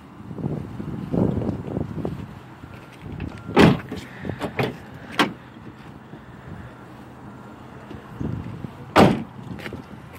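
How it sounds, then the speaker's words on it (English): A Honda Ridgeline RTLE's dual-action tailgate is worked: a few sharp latch clunks and thumps stand out against low outdoor rumble, with a pair of distinct knocks early on and another firm clunk near the end. "You have the dual action tailgate that swings both ways."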